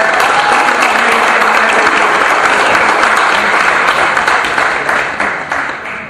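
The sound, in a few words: audience applause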